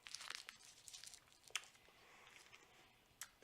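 Cough drop being unwrapped at close range, quiet crinkly rustles and small crackling bursts of plastic wrapper in short irregular handling bursts.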